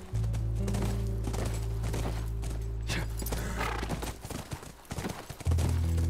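Horse hooves clip-clop near a ranch in The Last of Us Part 1, a steady rhythm of hoofbeats over a constant low game soundtrack drone, with a brief whinny-like swell and some thuds toward the end.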